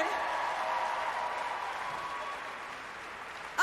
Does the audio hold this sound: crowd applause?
yes